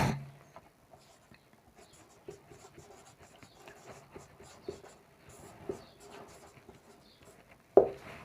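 Chalk taps and scratches across a board as a chemistry equation on hydrogen and oxygen is written out in a classroom, giving quiet, scattered strokes with one louder knock near the end.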